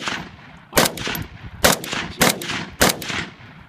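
AK-47 rifle firing four loud, sharp shots at roughly even spacing outdoors, each a broadband crack with a short decaying tail, no talk between them.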